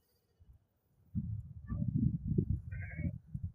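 Sheep and lambs bleat at a busy weekly livestock market, several overlapping calls close by amid a steady murmur of crowd noise, with a brief high bleat standing out near the end.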